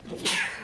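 A single sharp human sneeze, a short inhaled build-up followed by an abrupt breathy burst, close and fairly loud.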